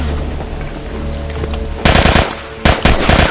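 Gunfire in the video game The Last of Us: a low rumbling ambience gives way to two loud, close bursts of rapid automatic shots separated by a brief pause.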